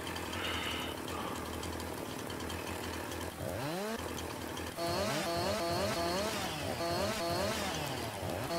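In Farming Simulator 19, an old chainsaw runs at a steady idle, then revs hard in repeated surges while debranching a felled tree, loud and close, with no voices.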